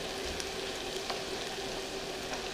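Battered cauliflower frying in a pan, a soft continuous sizzle and crackle at low volume with no voices.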